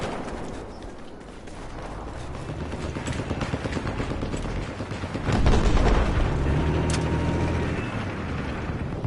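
Tank cannon fire and battle noise in the video game Battlefield 4, a dense roar of gunfire and explosions with a heavy boom rising midway, loud and continuous.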